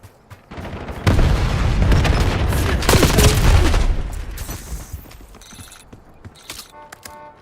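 A frag grenade in a video game is thrown and bursts in a loud booming blast with rumbling gunfire around it, the roar lasting a few seconds before tapering into scattered shots.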